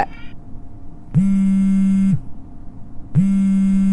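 A phone rings with a steady electronic buzzer tone, two long one-second bursts separated by a gap, fairly loud and close with no talk over it.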